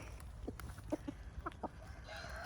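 Chickens and a rooster on a farm give a few short, soft clucks and calls in quick succession, quiet and fairly close, over a low background hum.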